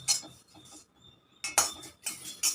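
Curry leaves dry-roasted until crisp in a pan, with sharp bursts of metal spatula scraping and clinking against the pan in irregular strokes and brief pauses between, close and clear, no talking.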